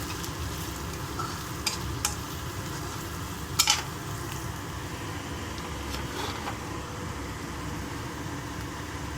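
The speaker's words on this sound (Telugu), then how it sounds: "ఇప్పుడు మనం సోయా వేసుకుందామండి." Soya chunks (meal maker) tossed into a hot pan with green chilli and salt, then stirred: a steady sizzling hiss with a few sharp scraping clicks and one louder clatter of a spoon against the pan.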